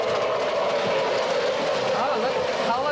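An MTH model train with a smoke unit runs along its track, giving a steady, close rumble and hiss that carries on without a break, while people talk over it.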